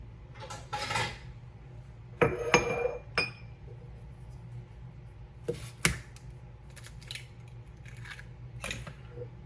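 A bowl is taken out and set down on a kitchen counter, giving a few sharp clinks and knocks of glassware and dishes, separated by quiet moments in an indoor kitchen.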